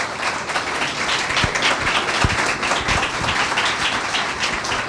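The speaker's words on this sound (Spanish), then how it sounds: "Con un aplauso le pedimos que por favor pase el podio." A conference audience applauds as a former president comes to the podium for a talk on Venezuela and oil; loud, dense, sustained clapping with a few sharper nearby claps standing out.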